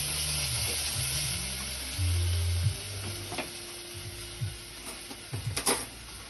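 Chili pepper roasting in a hot pan, a steady low sizzle with intermittent scraping and stirring clicks near the mic, no voices over it.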